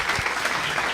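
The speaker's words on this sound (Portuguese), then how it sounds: "Queria pedir aqui uma salva de palmas para a Dani." A moment of audience applause at an urban innovation event, a brief burst of dense, full clapping from a gathered crowd.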